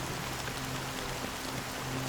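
Steady rain falls in Honkai: Star Rail, a continuous even hiss of drops on surfaces that holds at a constant moderate level for the whole stretch, with faint low tones beneath and no voices.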